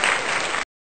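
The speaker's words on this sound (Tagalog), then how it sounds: "Bigyan natin ang ating sarili ng isang malakas na palakpak" Loud burst of applause from a group, a short dense clapping sound that cuts off abruptly after about half a second.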